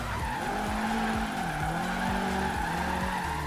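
Tire squeal from a Subaru drifting in the racing game Forza Horizon 3, a continuous loud screech with a droning engine underneath and repeated pitch swoops as the car slides through a drift zone.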